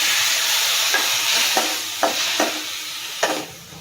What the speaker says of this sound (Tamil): நம்ம கட் பண்ணி வச்சுருக்கிற தக்காளி இதில் சேர்த்துக்கலாம்